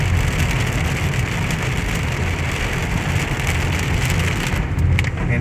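Summer rain in Tegucigalpa, Honduras, falls steadily as a dense, even hiss on wet streets near a bridge under construction, with traffic rumbling underneath, constant and close throughout.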